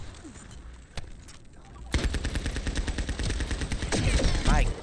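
Rapid gunfire in a shooter video game, dense bursts of shots that start sparse then become a loud continuous barrage, with players talking over it.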